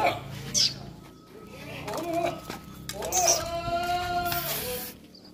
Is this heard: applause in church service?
no